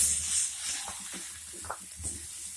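A spatula stirs mashed boiled potatoes and spices in a hot pan for a stuffed capsicum dish, soft scraping strokes and light sizzling, quiet and close.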